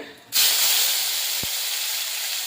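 Chopped tomatoes drop into hot oil seasoned with salt and burst into a loud, steady sizzle that starts suddenly after a short quiet moment and continues close up with no voices.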